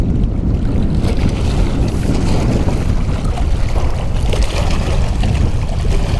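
Strong wind of over 20 mph buffeting a fishing boat and the microphone, a loud, continuous roaring rumble with gusty low-end thumps and no break, close and alone with no voices.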